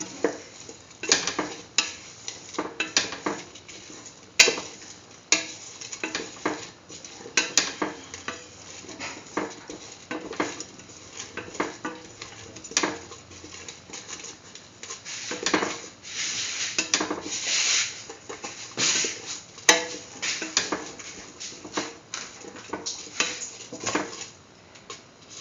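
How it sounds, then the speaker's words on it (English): Split chickpea and yam stew sautéed and stirred in a pan, with repeated scraping and rubbing of a utensil against the pan over a low sizzle, steady and close throughout with no talking. "Thoroughly saute mix."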